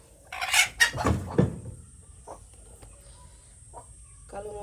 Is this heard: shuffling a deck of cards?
no